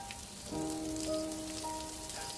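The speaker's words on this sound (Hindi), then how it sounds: "एकदम से बारिश भी शुरू हो जाती है।" Rain falls in a steady, soft patter, faint and close, with brief higher tones drifting over it and no voices.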